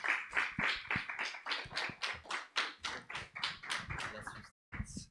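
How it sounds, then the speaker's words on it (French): Clapping from an audience greeting a guest onto the stage at a French YouTuber evening show, a dense run of sharp hand claps that stops briefly near the end before a short burst resumes. "Je vous demande de l'applaudir comme il se doit."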